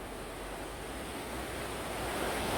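Water pours over an original old millstone at a mill site in Matlock, Derbyshire, giving a steady, loud, broadband rushing that fills the whole moment without pause or voices.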